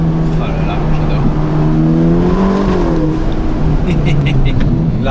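A 620 hp Ferrari Roma being driven, its engine note rising steadily as it accelerates, loud from inside the car, with someone talking over it.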